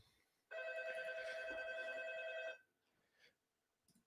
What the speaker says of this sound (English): Phone's ringing, folks.